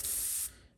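A steady burst of air hisses from an airbrush fed by a large shop air compressor, loud and close for about half a second before cutting off and trailing away.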